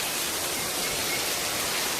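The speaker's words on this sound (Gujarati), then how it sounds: "આ જુઓ વરસાદ જુઓ તેમ પડે એ સરસ મજાનો પડે છે" Heavy rain pours down at night during Navratri in a Gujarat village, a dense, even hiss of falling water that fills the whole stretch without pause or voices.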